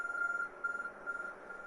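A smartphone in Pokémon Legends: Arceus gives off a repeating electronic beep, a thin sustained tone pulsing in short bursts with brief gaps, faint and steady with no talk over it.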